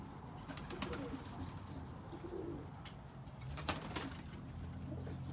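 Young roller pigeons flying as a kit outdoors, with faint soft cooing and fluttering against quiet background noise, a few brief sharp clicks or taps standing out.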